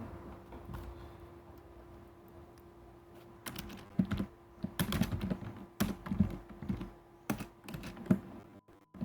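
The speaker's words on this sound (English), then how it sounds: "Let me type correctly." Keystrokes on a computer keyboard, tapped in uneven bursts of close, crisp clicks over a low background hum, getting busier and louder toward the end.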